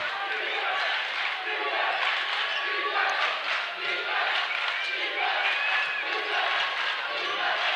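A basketball crowd in the stands at a college tournament game roars steadily throughout, a dense, continuous wash of cheering and shouting with occasional swells and no pause.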